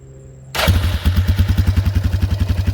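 A Yamaha Grizzly 350 4x4 ATV engine fires up abruptly after a quiet moment and settles into a loud, steady, rhythmic idle with evenly spaced pulses, close by.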